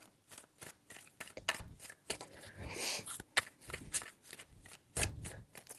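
Tarot cards are shuffled by hand in quick, papery riffles and slides, a close, soft series of bursts with a brief pause before a final flurry.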